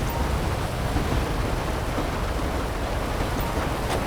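In GTA 5, rain pours steadily across the Sandy Shores area under low rumbling thunder, a dense, loud, continuous wash of sound with no voices over it.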